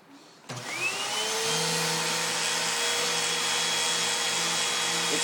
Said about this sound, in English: So you attach this to the vacuum cleaner and turn it on